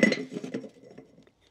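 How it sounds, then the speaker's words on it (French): A lid pressed onto a mycelium-filled pod for growing morels, a quick cluster of light plastic clicks and taps that fades to silence within a second, close and alone. "une fois qu'il est bien rempli, tu vas venir mettre le couvercle du pod."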